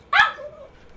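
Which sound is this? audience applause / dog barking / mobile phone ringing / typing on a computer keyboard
dog barking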